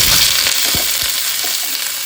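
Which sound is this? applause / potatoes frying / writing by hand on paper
potatoes frying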